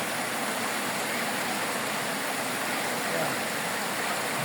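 Steady rushing water from Kabuayahan Falls and its stream on a mountainside, a dense unbroken roar that fills the whole stretch at an even level with no talk over it.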